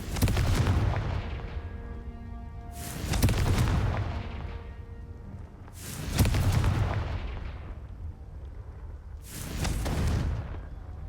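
Confringo fire spells blast in the video game Hogwarts Legacy: four loud, booming explosions a few seconds apart, each rumbling and fading out slowly with no talk.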